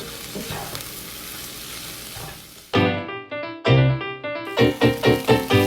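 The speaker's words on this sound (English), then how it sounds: "After we mix all of the ingredients with the beef, now we're gonna put into the milk." Ground beef with curry ingredients stirred in a hot frying pan, first a steady sizzle, then a run of loud, rhythmic scraping strokes with frying underneath, close and clear, no talking.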